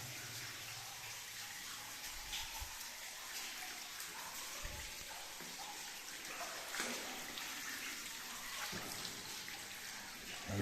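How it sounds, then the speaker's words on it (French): Water trickles down like a small cascade inside a mine gallery, flowing in from a shaft, a faint, steady splashing hiss that echoes softly and continuously, with no talking. "ça fait comme une mini cascade. L'eau elle rentre depuis le puits et elle s'écoule jusqu'en bas."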